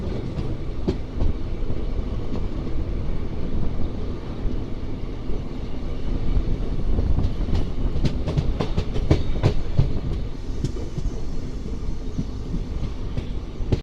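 A moving Charlapalli–Tirupati special express passenger train rumbles steadily throughout, with rhythmic clicks and clacks of wheels over the rails, close and continuous.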